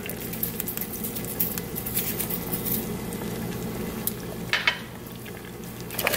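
Mussels sauté in a pan of lemon pepper, garlic, white wine and butter sauce, a soft bubbling patter with occasional light clinks of utensil against the pan.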